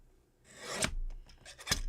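Scissors trimming something off: two brief, close snips with a light rasping rub between them.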